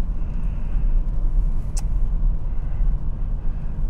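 Steady low tire hum and road rumble inside a BMW 535i E34 under way, a dense continuous drone with one brief higher click midway and no talking.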